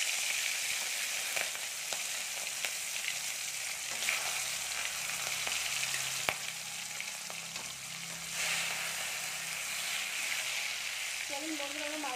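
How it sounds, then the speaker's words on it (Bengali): Prawns fry in hot mustard oil with a steady, dense sizzle that holds close and even throughout, with occasional stirring scrapes under it. "চলুন বন্ধুরা, আমরা মাছগুলো ভেজে নিই"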